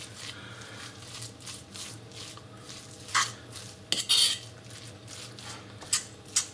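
A spoon works smoked mackerel spread and mayonnaise together in a bowl, giving soft wet squishing strokes and occasional sharp clinks of utensil against the dish, close and fairly quiet with no talking.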